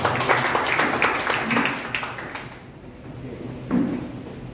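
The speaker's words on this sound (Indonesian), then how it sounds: "Tutup dengan tepuk tangan dulu bagi Tuhan." A church congregation claps in praise to close a sermon, with bursts of fairly close applause that fade away partway through and then swell again briefly near the end.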